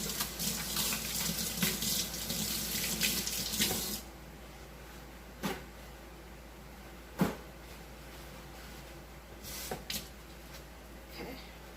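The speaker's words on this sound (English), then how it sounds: "we're going to rinse this out because it's been sitting out" Tap water gushes into a trifle bowl as it is rinsed in a kitchen sink for about four seconds, then stops, followed by a few sharp clunks and knocks of the bowl nearby; close, no clear talking.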